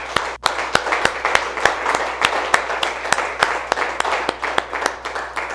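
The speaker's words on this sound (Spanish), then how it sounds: "Dale un aplauso al Señor." A church congregation applauds at a Resurrection service, with loud, fairly rhythmic clapping close by that continues steadily throughout.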